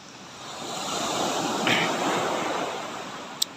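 Ocean waves wash in a broad roar at a boat landing, swelling and receding, with wind noise and a short sharp tick near the end.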